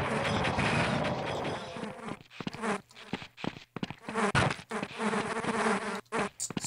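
A buzzing fly in Half-Life drones loudly and close, its whine cutting in and out in bursts amid clanks and thumps from the game.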